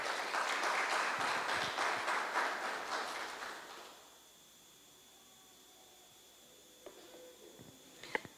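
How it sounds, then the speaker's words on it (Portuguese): A church congregation applauds together in a long, steady burst that fades out after about four seconds, leaving a quiet room with a few faint knocks and rustles. "Vamos aplaudir a Jesus?"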